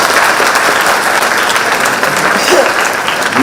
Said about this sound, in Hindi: जोरदार अभिनंदन करो